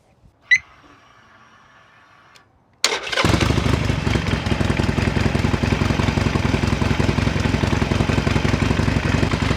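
After a quiet click and short electronic hum from a car jump starter, a Harley motorcycle engine catches and settles into a loud, steady idle close by.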